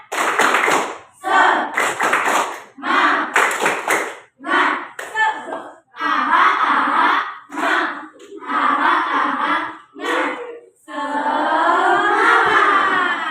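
An elementary school class chants the Indonesian 'tepuk semangat' cheer together in bursts with rhythmic claps mixed in, the pattern repeating as voices rise and fall.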